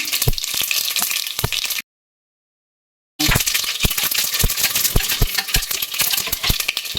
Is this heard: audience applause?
no